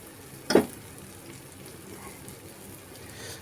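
Vanjaram dried fish fries in oil over a low flame with a soft, steady sizzle, broken near the start by one sharp, loud crackling burst.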